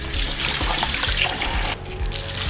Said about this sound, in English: So I'm going to just rinse my hands a bit here.